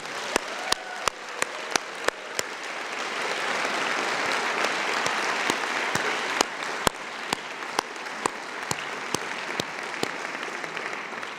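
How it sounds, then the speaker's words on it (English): A graduation ceremony audience claps steadily in a large hall, a dense even wash of applause with sharp, close individual claps standing out throughout. "let's give them a huge round of applause."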